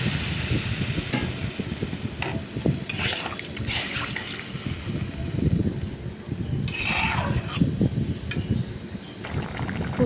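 Steady sizzling and frying in a pan of sautéed masala for koi fish curry as water is added, with stirring scrapes, a continuous crackle filling the whole stretch, and a few brighter hissing bursts.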